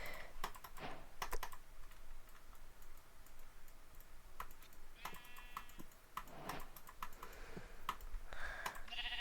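Sheep bleat faintly in Minecraft amid the steady clatter of computer keyboard typing and clicking, a couple of short bleats standing out above the tapping.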